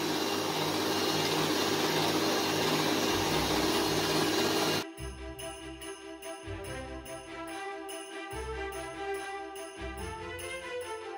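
An electric mixer whips cream for a tiramisu cake with berries, first a loud steady whir, then a lower buzzing drone that pulses on and off in short bursts, with no talking.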